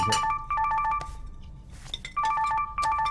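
A mobile phone ringtone plays loudly and close by, a repeating electronic melody in two bursts separated by a short pause with a brief rustle, no voices.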